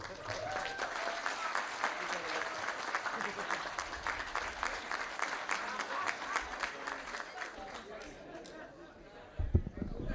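Audience applause for Representative Will Davis at a college groundbreaking ceremony, a sustained round of clapping with some crowd chatter, fading near the end before a brief thump.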